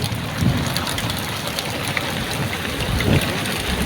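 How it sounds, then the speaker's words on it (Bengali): Heavy rain pours steadily on a river island in the Padma during a storm, a dense, loud, even hiss of drops with no pauses, filling the scene on its own throughout. "প্রচুর বৃষ্টি হচ্ছে"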